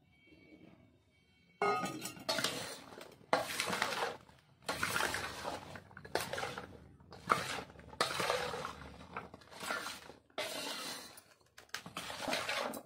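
Lemon juice being poured and mixed into cauliflower pickle, heard as a run of wet, squelching mixing bursts with brief pauses between them, close and fairly loud after a quiet opening.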